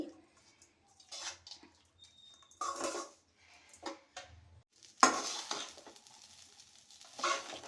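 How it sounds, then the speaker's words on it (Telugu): Cooked rice seasoned with salt is stirred evenly in a pan, bringing intermittent scraping and clinking of a spoon against the metal over a faint sizzle, with a louder flurry of stirring near the end. "అన్నాన్ని ఈవెన్గా కలుపుకోవాలి."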